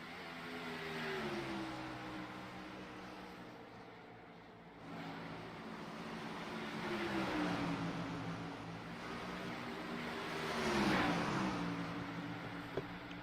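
Several race cars in the iRacing sim drag down a backstretch toward a turn, engines droning steadily with rising and falling pitch as they accelerate, close and continuous with no talk.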